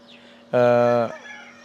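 A single short, loud squawk from a Sonali laying hen rings out for about half a second against quiet surroundings.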